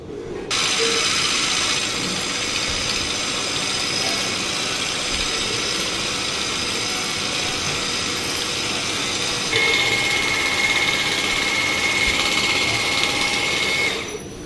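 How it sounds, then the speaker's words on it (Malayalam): An electric mixer beats whipping cream in a bowl for homemade mango ice cream, a steady close motor whine that runs unbroken for about fourteen seconds, shifting pitch slightly partway through. "ഇത് നമുക്ക് നല്ലതുപോലെ ഒന്ന് ബീറ്റ് ചെയ്ത് കൊണ്ടുവരാം."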